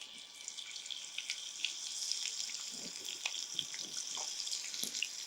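Sliced onions dropped into hot oil for vegetable semiya, giving a soft, continuous sizzle with scattered crackles and pops, fairly quiet and heard on its own.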